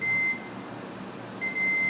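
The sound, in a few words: multimeter continuity beep testing a diode on a phone board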